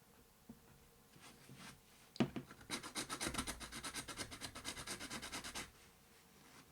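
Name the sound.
pencil sharpened on sanding block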